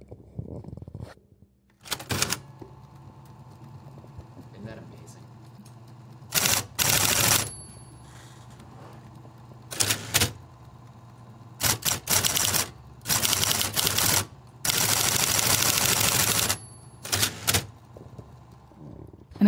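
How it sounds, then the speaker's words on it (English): An Olympia Monica electric typewriter clatters in loud bursts of rapid keystrokes separated by pauses, with a steady motor hum beneath and no talking. "having the typewriter, like, it's like playing a piano. When you just really push into the keys"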